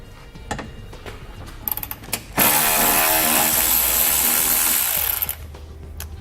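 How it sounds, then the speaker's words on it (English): A tool with a 10mm socket spins a bolt out under a 2019 Lexus NX 300 during a trailer hitch install. A few sharp clicks come first, then about three seconds of loud, close, continuous whirring that stops abruptly. "We're going to use a 10mm socket, and once we remove those, that'll allow this to come down."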